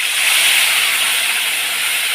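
Fried potatoes with salt, cumin powder and ginger paste sizzle in hot oil, a steady loud hiss with no voices.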